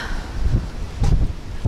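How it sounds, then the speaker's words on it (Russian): Gusty storm wind in the evening in southern Russia buffets the microphone with a low roar, swelling in two strong bursts over a constant rushing background. "Ой, какой ветер."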